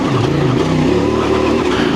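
CF Moto 450MT motorcycle engine revving on a dirt trail, a close, loud, steady throttle roar with pitch rising and falling over two seconds.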